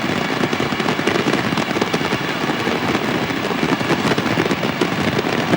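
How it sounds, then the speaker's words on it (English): A dense, continuous crackle of firecrackers exploding in rapid overlapping bursts at a Brazilian football victory celebration, loud and unbroken throughout. "A firecracker welcome."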